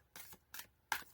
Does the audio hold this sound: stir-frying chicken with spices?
no